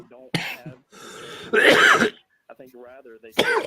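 Several harsh coughs and throat clearings burst out close to the microphone, mixed in with a person speaking between them.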